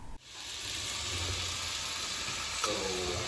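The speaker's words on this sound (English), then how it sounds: "I just threw them into the pan and mixed all that up." Instant two-minute noodles hit a hot frying pan with a steady, loud sizzle that starts abruptly and continues close up, with brief stirring scrapes near the end.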